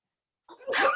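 A single sharp sneeze bursts out during a kids' art class after a moment of silence, close and fairly loud, with a breathy onset and a bright explosive release.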